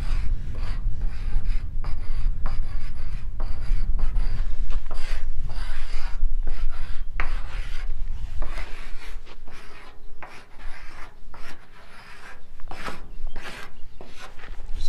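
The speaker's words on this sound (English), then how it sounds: "we have chalk on both sides here, chalk boxes, and the kids can write whatever they want" Chalk scraping across a board at a children's play farm, a continuous close rasping and scratching of writing and drawing strokes, steady and fairly loud with brief tapping gaps.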